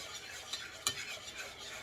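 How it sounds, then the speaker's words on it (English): Seasoned pork chops are stirred in a pan for smothered pork chops, giving soft scraping and light sizzling with one sharper utensil tap partway through, fairly quiet and with no voices. "And then I'm going to mix it around."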